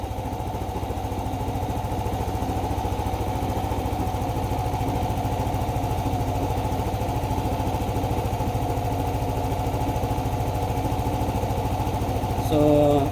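A Yamaha Aerox or Nmax 155 scooter engine idles steadily up close, an even putter that rises slightly in the final moment.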